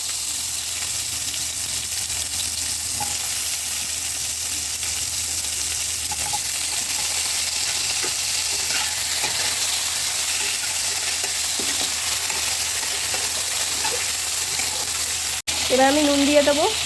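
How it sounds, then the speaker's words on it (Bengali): Vegetables for Bengali sukto fry in oil with panch phoron and radhuni, giving a continuous loud sizzle with faint stirring clinks throughout and a brief jolt of handling noise near the end. "এবার আমি বাকি সব সবজিগুলো ভেজে নেব"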